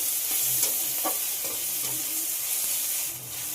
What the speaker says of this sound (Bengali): যতক্ষণ না আদা রসুনের কাঁচা গন্ধটা চলে যায় ততক্ষণ খুব ভালোভাবে কষিয়ে নিতে হবে।